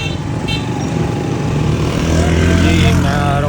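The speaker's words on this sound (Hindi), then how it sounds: "मैं आ रहा हूँ बच्चों को स्कूल से लेके, बाइक चला रहा हूँ आपके सामने" A motorbike is ridden along a street on the school run, its engine droning steadily close by with a low buzzing rumble and wind noise that grows slightly louder.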